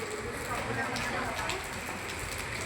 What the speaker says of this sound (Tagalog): malakas ng ulan